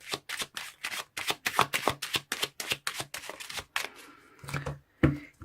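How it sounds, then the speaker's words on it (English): Lenormand cards being shuffled by hand in a tarot reading, a quick series of crisp riffling slaps close up, slowing into a few softer taps at the end. "let me pull some Lenormand's cards to clarify the situation"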